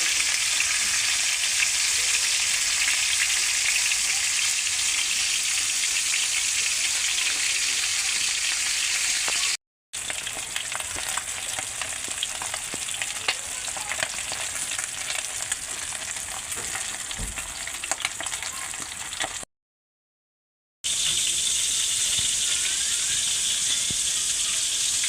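Taro (gabi) fries in a pan as a loud, continuous sizzle hisses and crackles with occasional stirring, broken by two brief silent gaps and with no voices heard.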